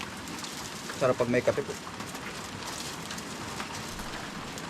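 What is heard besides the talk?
rain falling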